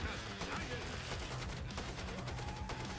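Dense gunfire from the zombie shooter video game Killing Floor 2, rapid overlapping shots and bursts mixed with game noise, quite faint and partly under voices.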